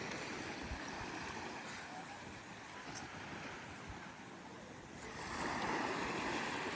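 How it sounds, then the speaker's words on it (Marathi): Ocean surf rolls in at Redi beach on the Konkan coast, a continuous broad wash of breaking waves with wind, moderately near and swelling louder toward the end, no clear talk over it. "हा हे रेडीचा समुद्र किनारा."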